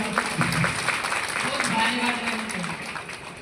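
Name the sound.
applause from the crowd at a rally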